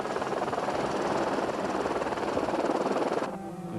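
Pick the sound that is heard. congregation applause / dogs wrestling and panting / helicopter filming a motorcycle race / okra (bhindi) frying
helicopter filming a motorcycle race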